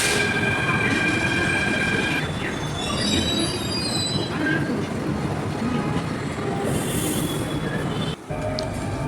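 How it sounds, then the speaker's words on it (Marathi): A Mumbai Metro train runs at a station platform, loud and close, with a long high-pitched wheel squeal, rumbling carriages and brief clatter before the noise suddenly drops near the end. "मी ट्रेनची वाट पाहत प्लॅटफॉर्मवरती उभा होतो"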